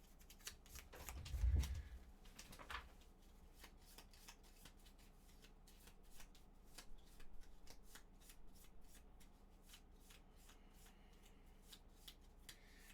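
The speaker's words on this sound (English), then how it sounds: "We should shuffle this." Gloomhaven board game cards being shuffled by hand during solo play: a quiet, rapid run of crisp riffling clicks with a brief louder shuffle near the start, no talk.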